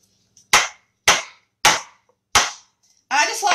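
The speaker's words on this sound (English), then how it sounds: "I'm going to bang these a little bit" Cake pans filled with red velvet batter are banged down on a counter four times at an even pace, each a sharp, loud, close knock that rings out briefly, followed by a burst of rustling noise.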